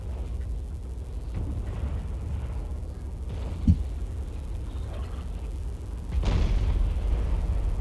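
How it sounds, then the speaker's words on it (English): Cannon artillery fire in the battle video game Napoleon: Total War, distant dull booms scattered over a steady low battlefield rumble, one sharper thud standing out midway. "Their cannons actually look to be shooting at something."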